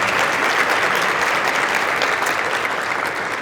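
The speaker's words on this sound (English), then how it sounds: "One more huge round of applause for Jessica" Sustained, dense applause from a conference audience at a marketing professionals' regional gathering, steady and even throughout with no pauses, close and fairly loud.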